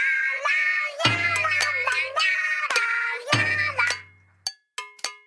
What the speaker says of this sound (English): And one of them plays during the Splatfest square and sounds like this.